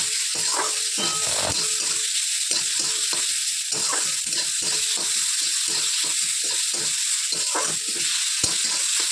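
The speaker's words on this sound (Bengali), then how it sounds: "টমেটো আর পেঁয়াজটা একসাথে ভেজে নেবো" Chopped onion and tomato fry together in a pan with a steady, loud sizzling hiss, punctuated by regular scraping strokes of a stirring spoon.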